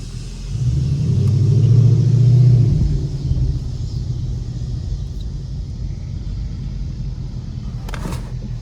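A 2019 Ford Mustang GT with a Coyote V8 and X-pipe exhaust, heard through open windows while driving in the city; a deep rumbling engine swells briefly as it revs, then settles into a steady low idle-like drone.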